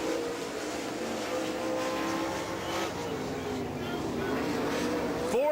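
A super late model race car runs its single qualifying lap at Rome Speedway, Georgia, its engine roaring continuously with shifting pitch through the turns, heard under a track announcer's talk.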